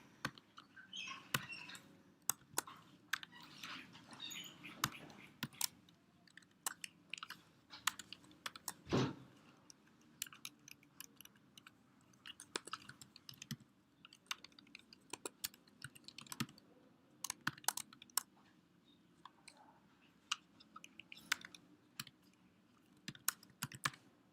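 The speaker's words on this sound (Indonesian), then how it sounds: "kita ketikkan for, lalu kurung" Someone types code on a computer keyboard, with irregular bursts of crisp, close key clicks and occasional louder strikes and pauses over a faint room hum, no voices.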